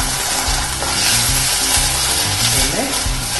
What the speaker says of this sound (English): The garlic is frying now, and we add our peas.